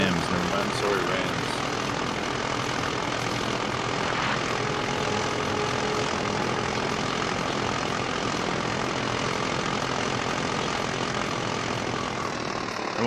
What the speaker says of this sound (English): The engine on this thing is too loud.